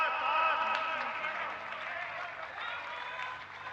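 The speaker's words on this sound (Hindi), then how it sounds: "हम सब जोर से तालियों के साथ" An audience at a BJP party event for the announcement of a new party president applauds, a soft, steady spread of clapping with some crowd murmur beneath it.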